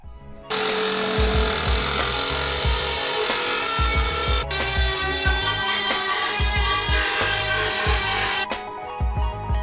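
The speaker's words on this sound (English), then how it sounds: "this is just kind of getting in the way and it's not helping us out. So we're going to trim this off." A power tool trims a carbon fiber splitter tunnel flap, a loud, continuous high whine with rough grinding rasp that starts abruptly, dips once briefly and stops near the end.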